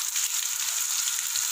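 Cumin seeds, cinnamon, black and green cardamom and cloves fry in hot oil for chana pulao, producing a continuous, even crackling sizzle close up with no voices.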